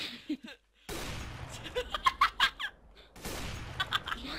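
A chicken clucks in Counter-Strike: Global Offensive, with a run of short, sharp clucks amid bursts of game noise during a 1v1 match.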